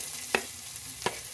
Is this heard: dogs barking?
no